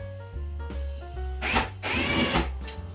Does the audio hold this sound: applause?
no